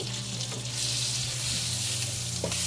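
Butter and a little oil sizzle steadily in a frying pan, a dense continuous hiss close by, with faint clinks and no talk.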